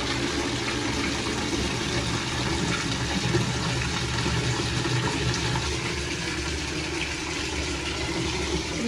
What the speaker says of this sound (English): While all the water drains out, I'm gonna fill up the bucket with water.